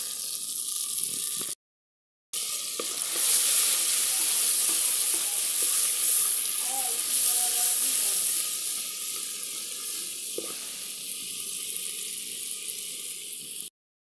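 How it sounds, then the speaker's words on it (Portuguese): Garlic sizzles in plenty of melted salted butter in a pan, a close, steady crackling hiss that runs on continuously with a few faint stirring knocks, broken only by a short gap early on. "Manteiga derretida, né, vamos colocar o nosso alho"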